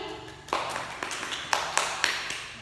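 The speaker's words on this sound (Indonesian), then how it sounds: "Tepuk tangan untuk Andini" A small classroom group claps for a student in a Year 7 Indonesian lesson. The clapping is quiet and sparse, with a few distinct sharp claps spaced through the moment.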